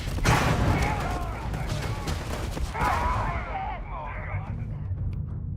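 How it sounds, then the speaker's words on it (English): Grenade explosions and gunfire in Starfield sci-fi game combat: a dense, continuous barrage of booms and shots with loud, rolling blasts, mixed with voices and game sounds. "Let's throw some grenades at them."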